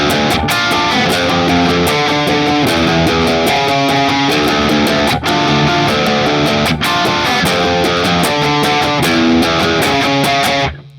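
A heavily distorted riff plays on its own, dense and loud with a driving rhythm and sharp accents throughout.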